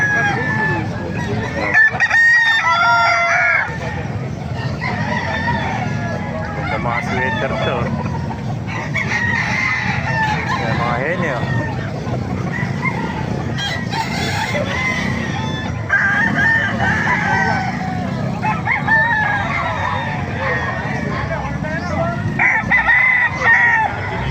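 Chickens clucking and roosters crowing repeatedly at a chicken market in Calumpit, Bulacan, a busy chorus with several birds calling near and far over steady background noise.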